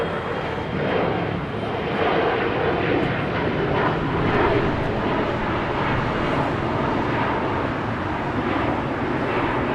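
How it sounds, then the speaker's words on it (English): A Boeing 747-8 Intercontinental airliner arriving at LAX, likely from Seoul, roaring loud and close with a broad, continuous jet engine rumble that fills the whole span without break. "There's a 747-8 coming along. 747-8 Intercontinental."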